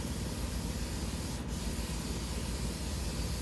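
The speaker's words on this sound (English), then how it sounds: "So I'm going to do all the outside with spray adhesive." Spray adhesive hisses from an aerosol can in one continuous, close and steady burst while coating the outside of a hanging cage prop.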